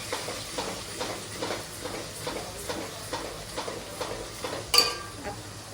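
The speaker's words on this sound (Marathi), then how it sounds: "थोडीशी आपण मिरची पावडर घालूया आणि हे परत एकदा परतून घेऊया" Crab curry masala with chili powder being sautéed in a pan, rhythmic scraping stirs repeating about once a second over a soft sizzle, with a sharper clank near the end.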